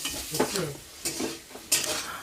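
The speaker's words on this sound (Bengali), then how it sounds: "পেঁপেগুলোকে আমি ভালোভাবে ভেজে নেব প্রথমে" Papaya pieces sizzle as they fry in a pan, with a few stirring scrapes and clinks of a utensil against the metal, close by, no voices.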